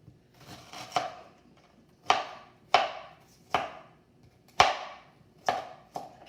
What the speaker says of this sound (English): you're gonna chop this ginger into tiny pieces and add it to the pineapple